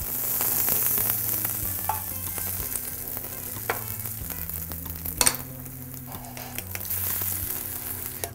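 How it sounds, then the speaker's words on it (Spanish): Scrambled eggs with tomato and onion fry in a pan, a steady close sizzle with occasional stirring scrapes and clicks, no talking. "Huevos revueltos con tomate, cebolla, un plato súper sabroso"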